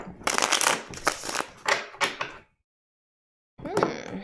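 Playing cards being riffle-shuffled twice, crisp rapid fluttering bursts close up, with a brief silent pause before a final short shuffle.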